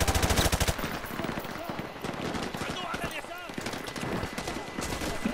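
Rapid automatic gunfire from Modern Warfare 2 Remastered, loud sustained bursts with dense rattling shots, a speaking voice intermittently audible over the firing.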